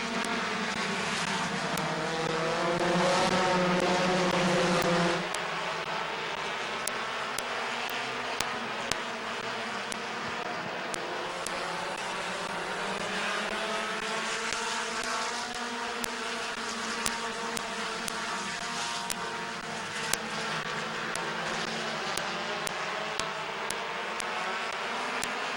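Compact race cars on the oval at Midvale Speedway produce steady, buzzing engine drone with overlapping rising and falling pitches as cars pass, a louder surge early on, then a sustained mid-distance roar of the field.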